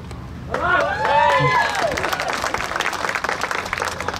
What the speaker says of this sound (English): You can certainly clap for Stu.